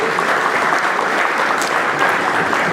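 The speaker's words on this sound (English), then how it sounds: "Give him a round of applause" Dense, sustained applause from a dinner-theatre audience at a murder mystery dinner, steady and fairly loud throughout with no clear break.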